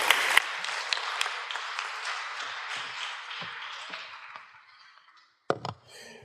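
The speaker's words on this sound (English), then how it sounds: "Give them a round of applause, folks." Church audience applause that starts strong and gradually fades away, a few scattered claps trailing off, then a couple of sharp knocks near the end.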